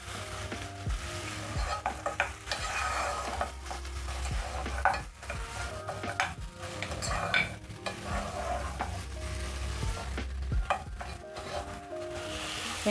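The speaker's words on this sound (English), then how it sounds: "Stir in the short ribs. Make sure they're coated with all the spices," Short beef ribs coated in spices and garlic stirred in a hot pot, a continuous loud sizzle with scraping of the spoon against the pot, close up.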